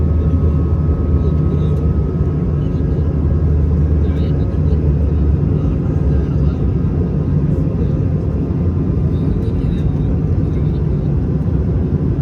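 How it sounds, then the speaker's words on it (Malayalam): A passenger airliner landing at Riga airport, heard as a loud, steady, broadband cabin rumble with a low engine drone that persists without a break throughout. "അങ്ങനെ റീഗ എയർപോർട്ടിൽ ലാൻഡ് ചെയ്തു. അതാണ് ഞങ്ങൾ വന്ന ഫ്ലൈറ്റ്."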